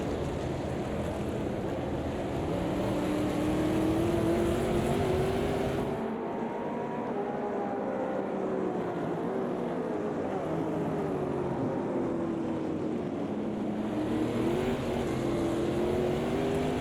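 A racing car engine in a racing video game drones and revs steadily, its pitch sweeping up and down through gear changes with a brief drop in intensity midway, continuous and fairly close.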